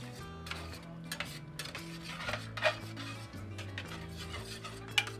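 Utensil stirring and scraping Cajun pasta sauce with shrimp and andouille sausage in a pan, soft rubbing strokes and occasional clinks over a steady low hum, fairly quiet.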